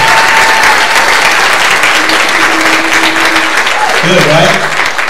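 Church congregation applauding steadily, a dense wash of hand clapping filling the room throughout, loud and sustained, with a speaker's voice talking over it.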